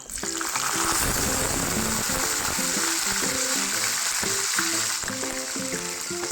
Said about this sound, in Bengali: এই মশলাগুলো ভাজা হয়ে গেলে এতে আমি দিয়ে দেব ছয় থেকে সাতটার মতো চিড়ে রাখা কাঁচা লঙ্কা